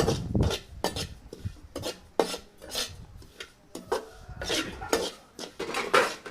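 Sesame seeds roasting in a pan on a stove that has just been switched off, giving repeated scraping and rasping strokes as a utensil stirs them against the metal, with a steady, close rhythm and no talk.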